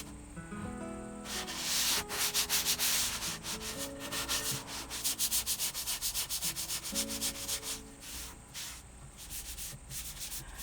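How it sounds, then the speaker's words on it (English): A grit sanding sponge rubs back and forth over red mahogany wood veneer on a piano bench, a close, rhythmic scratchy rasp in quick strokes with short pauses and no talking. "grit sanding sponge here because I'm going to fix that veneer"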